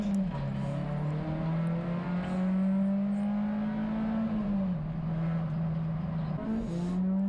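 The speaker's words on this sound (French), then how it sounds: "Et puis voilà, Flavien qui part." Race car at Magny-Cours in the TTE Pirelli Series pulling away from the pits, its steady engine tone rising and shifting pitch through gears, fairly loud and alone without speech.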